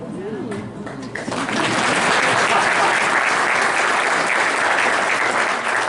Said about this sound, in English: That was a sympathy applause for my wife.